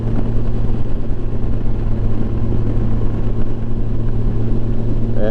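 A 2007 Yamaha FJR 1300 sport-touring motorcycle cruising at 3,500 RPM and about 65 mph gives a loud, unbroken engine drone mixed with road and wind rumble, heard from on the bike.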